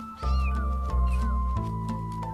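A three-week-old kitten, just standing and walking unsteadily, gives a run of clear, close meows, several in quick succession over a steady low background with no talk.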